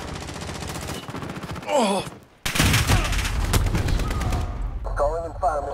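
Gunfire in Call of Duty: Modern Warfare (2019) hardcore Domination, a dense run of rapid shots with a sharp burst midway, under shouted voice lines and a short exclamation.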